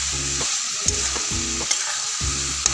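Potatoes frying with masala in a pan for soya chunk gravy, a steady close sizzle with rhythmic scraping stirs roughly every half second.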